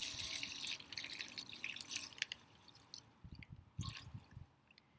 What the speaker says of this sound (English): let's pour our vinegar in.